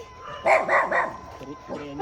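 A dog barks three times in quick succession, close and loud, followed by softer yips, with a person's voice in the background.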